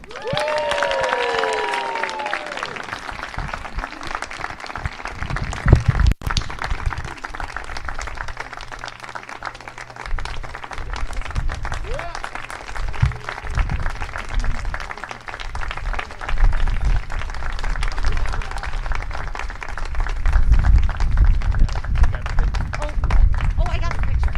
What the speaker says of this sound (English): Please give a big round of applause for our rising stars.